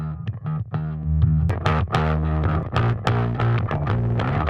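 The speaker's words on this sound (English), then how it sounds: "I also added Decapitator just to add like a funky distortion to it" Bass line in a music mix, heavily distorted with a Decapitator saturation plugin, playing a busy rhythmic pattern alongside kick and other instruments, loud and continuous throughout.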